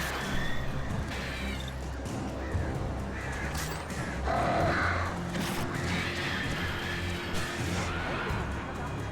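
Crows cawing and attacking in Alan Wake Remastered, with harsh caws and a few crashing impacts over a steady dark ambient bed, under light talk.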